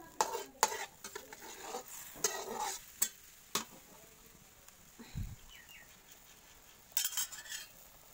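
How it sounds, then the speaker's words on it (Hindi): A spoon stirring soft joha rice as it comes to a boil in a pot, with irregular scraping clinks against the metal, quiet bubbling between strokes, and one dull thud. "मेरा वो चावल थोड़ा थोड़ा उबाल आ रहा है, इसको ऐसे हिलाते रहना चाहिए"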